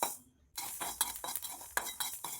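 Mustard seeds and fenugreek dry-roast in a pan over low heat, heard as quiet repeated scraping and rattling stir strokes with light clinks after a brief silent gap.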